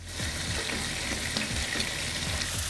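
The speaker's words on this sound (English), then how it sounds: "I'm gonna put the ramen noodles directly into the bottom of the skillet" Ramen noodles frying in the bottom of a hot skillet with sesame oil, a steady close sizzle with soft crackles and light scraping, continuous throughout with no talking.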